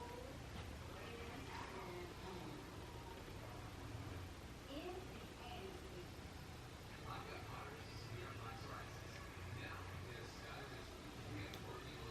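A cat meows faintly indoors over a steady background hum, with soft rustling and brief vocal sounds around it.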